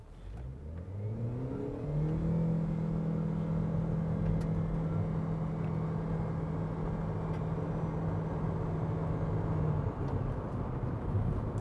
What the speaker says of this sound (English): I'll pop it into sport, hazard lights flash, and then I'll just mash the throttle